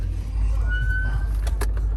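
A car slowly reversing through a used car lot, easing back beside a parked Jeep SRT; a steady low engine hum runs throughout with a faint rising whine, a few soft clicks near the end, no talking.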